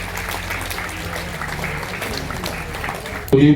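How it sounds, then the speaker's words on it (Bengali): Steady audience applause at a felicitation ceremony honouring a secondary-exam achiever, continuous clapping filling the hall throughout, with a brief louder thump near the end. "আপনারা করতালি দিয়ে অভিনন্দন জানাবেন সকলে"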